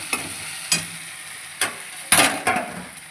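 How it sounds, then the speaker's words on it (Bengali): Meat sizzles in a pan under a run of sharp scraping and clanking stirs, about five or six strokes at an uneven pace, as the meat is added to the pan. "এবার আমি মাংসটা দিয়ে দেবো"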